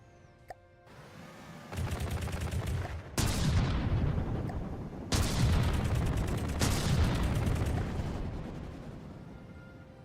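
Missiles launch in rapid repeated volleys in the naval combat game From the Depths, each burst a loud rattling roar of overlapping blasts that rises, holds for a second or two, then cuts off, with no talking.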